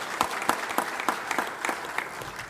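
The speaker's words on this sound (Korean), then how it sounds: "박수가 시원찮아서 박수를 한번 크게" Rhythmic clapping from a congregation at an eightieth birthday thanksgiving service, with sharp, evenly spaced claps standing out from a softer wash of applause.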